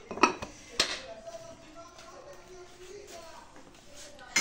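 A spoon clinks against a glass of iced coffee while sugar is stirred in, with a few sharp metallic taps near the start and then a softer, continuous swirl and scrape.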